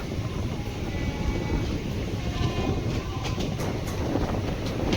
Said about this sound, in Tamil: double 10005 Puducherry express Dadar to Puducherry